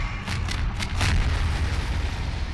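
A loud explosion in the video game Half-Life 2: Episode One booms with a series of sharp bursts, then a rumbling roar that lingers and slowly settles.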